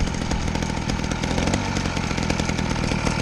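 An 80cc two-stroke motorized bicycle engine running hard and revving, with a loud, buzzing, chainsaw-like drone that stays steady and close throughout.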